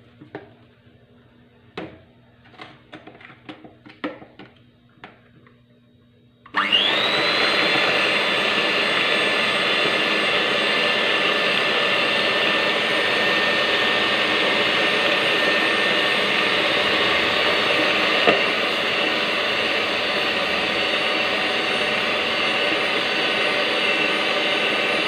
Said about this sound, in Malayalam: കുറച്ച് കുറച്ച് ചേർത്തിട്ട് നമുക്ക് ഇതൊന്ന് ബീറ്റ് ചെയ്യാം.